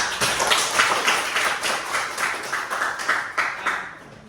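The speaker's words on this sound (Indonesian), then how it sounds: "Beri tepuk tangan berdiri." A classroom group giving a standing round of applause, a brisk patter of many hands clapping that fades slightly toward the end, with no speech over it.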